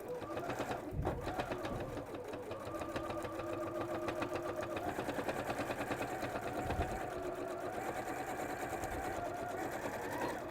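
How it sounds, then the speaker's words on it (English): A sewing machine stitches lining fabric, beginning with a reverse stitch, and then runs in a steady, close, continuous mechanical whir with a rapid needle rhythm throughout. "So start with your reverse stitch."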